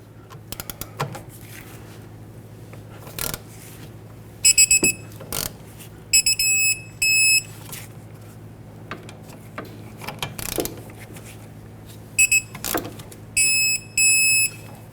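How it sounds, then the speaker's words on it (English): Caliper bracket bolts on a 2006-2010 Hyundai Sonata being tightened with a torque wrench, giving sharp mechanical clicks and several short bursts of high electronic beeping over a steady low hum. "let's torque these two bolts to 60 foot-pounds"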